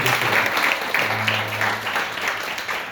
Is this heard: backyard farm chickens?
no